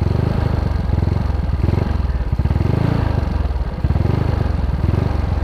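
A Yamaha Mio 150cc motorcycle engine idles steadily up close, a loud continuous rumble with rapid mechanical ticking and clatter from the cylinder head.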